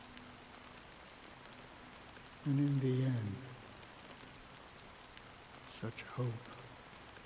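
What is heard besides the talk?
rain falling, from video game Honkai Star Rail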